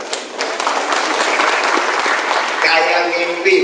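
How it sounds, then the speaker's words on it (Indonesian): Audience applause at a business presentation in Bogor, sustained dense clapping at steady loudness for the whole stretch, with voices mixed in toward the end. "Beri aplaus tadi buat YSLM."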